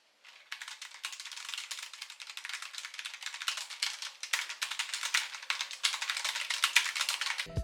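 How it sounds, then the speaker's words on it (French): Typing on a Logitech G915 TKL low-profile mechanical keyboard with RGB-lit keys: a steady, fast run of close, crisp clicky keystrokes lasting several seconds, with no talking. "La frappe est moins bruyante qu'un clavier mécanique standard, je vous laisse écouter."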